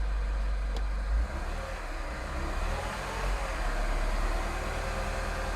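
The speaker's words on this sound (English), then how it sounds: "I'm going to actually start the car because I have no choice" A Mini Cooper S R60 Countryman ALL4 engine runs at a steady, low idle, a continuous close rumble with a slight bump near the start and no talking.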